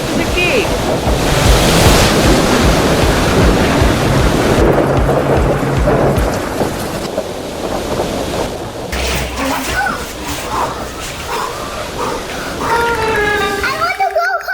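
Stormy outdoor roar with thunder rumbling and heavy wind and surf-like noise, loud and continuous through most of the stretch, easing briefly midway before building again; a voice is heard near the end.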